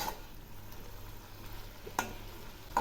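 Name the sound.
stirring pumpkin greens in a pan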